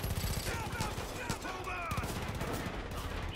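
Rapid gunfire in Far Cry 5 fired out of a moving vehicle, a dense stream of close, loud shots in quick bursts over engine rumble, with a voice talking over it.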